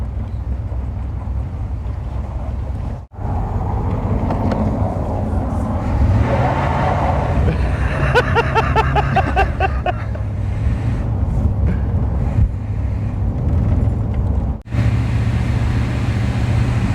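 A 1970 Cadillac convertible engine idling and revving steadily up close, a continuous loud rumble with wind buffeting the microphone and shifting tones as it runs.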